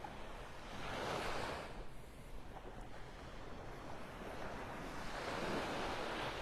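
Surf rolls and washes onto the sand at Vanderbilt Beach in North Naples, Florida, on a morning walk. The continuous rushing swells rise and fall, with wind buffeting the microphone.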